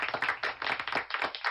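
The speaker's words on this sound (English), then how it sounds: "I'm even going to give you a round of applause" One person claps alone, close and distinct, about nine quick claps in an uneven rhythm with brief pauses between small groups.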